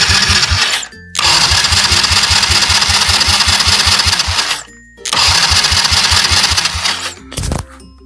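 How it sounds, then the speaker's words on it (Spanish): A 110cc motorcycle engine is cranked with the electric starter button, giving two long, loud bursts of rapid, even chugging pulses close by, separated by a brief pause and ending with a short final burst. "ponemos en contacto y le damos al botón de arranque"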